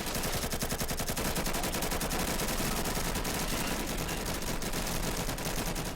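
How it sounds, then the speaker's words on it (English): Dense, continuous automatic gunfire in a multiplayer shooter video game firefight, with rapid loud bursts overlapping without a break for the whole stretch. "Just start shooting, just start shooting."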